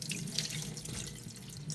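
Water from rinsing pinto beans is poured out in a soft, continuous splashing gush, quiet and close, with no talking.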